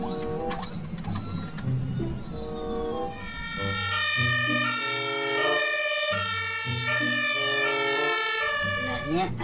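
Red toy ambulance sounding a loud electronic siren that begins with a rising wail and turns into a bright, repeating two-tone pattern, alone and close.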